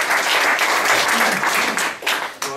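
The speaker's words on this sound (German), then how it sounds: "nochmal einen kleinen Applaus für Adrian" A conference audience gives steady applause for a presenter, the clapping dense and even before thinning out toward the end.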